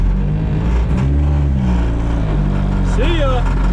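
Engine of a boosted Nissan 240SX barn find, running with a loud low rumble and rattle close by from inside the car, steady throughout while a person talks over it.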